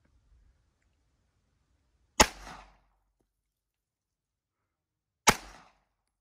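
A .45 ACP pistol fires twice at a soda can outdoors, two sharp, loud reports about three seconds apart, each with a short ringing decay, surrounded by near silence.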